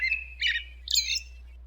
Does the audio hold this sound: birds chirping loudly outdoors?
yes